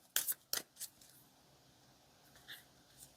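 Tarot cards are drawn and handled during a love-fortune card reading: a few crisp, close snaps and flicks of card stock near the start, then faint rustles in a quiet room.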